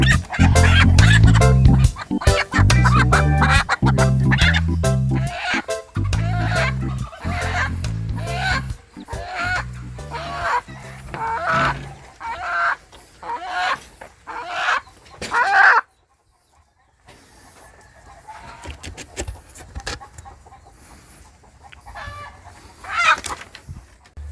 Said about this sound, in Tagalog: Ito yung mga inahing manok natin na sinasabi ko kanina